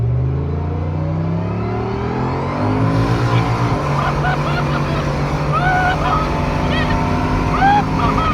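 An 800hp Nissan Z31 race car engine heard from inside during a ride, droning loudly and climbing in pitch through the gears, with whining harmonics and occasional tire squeals, steady and close with some talk.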